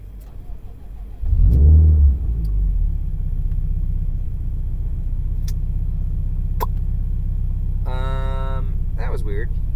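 A tuned Subaru STi with an Emtron KV8 ECU, eight fuel injectors and an EFR8474 turbo cranks briefly, then fires and settles into a loud, steady idle, with a short high whine later.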